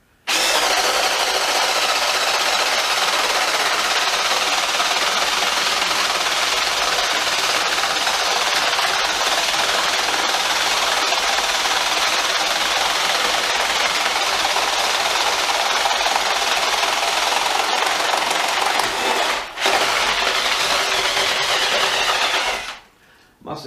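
A RIDGID hydraulic impact driver drilling through decking: a loud, continuous high-pitched motor whir with a busy rattling texture that runs for about twenty seconds, dips briefly, then cuts off.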